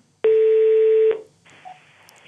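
A telephone number being dialed: one steady, loud keypad tone holds for almost a second, then gives way to a faint line hiss.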